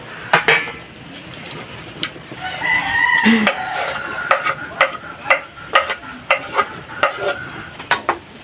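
Onions go into a hot frying pan for a healthy home-cooked dish, hissing into a sizzle at first, then giving way to regular clinking stir strokes against the pan, with a rooster crowing faintly in the background.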